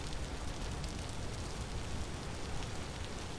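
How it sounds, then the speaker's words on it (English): Steady, dense rainfall in the survival game Vintage Story, a constant broadband hiss of drops with no breaks, fairly loud and uninterrupted by voices. "It's been non-stop rain."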